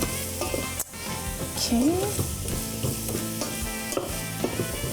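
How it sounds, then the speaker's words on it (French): Onions, carrot and garlic sizzling loudly in a hot pan while being caramelized for a chili with tofu and smoked paprika, with steady frying crackle, stirring scrapes, and a brief spoken word. "je veux caraméliser un petit peu les oignons, la carotte, l'ail et je veux quand même griller les"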